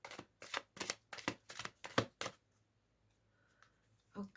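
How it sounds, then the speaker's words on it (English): A shuffled card deck riffled and flicked in a quick run of about eight crisp snaps, then a pause and a single card drawn near the end, close and quiet. "I'm going to draw another card for single people."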